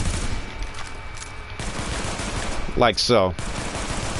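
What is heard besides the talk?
pistol gunfire after switching weapons in video game The Division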